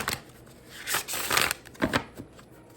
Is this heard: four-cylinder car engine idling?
no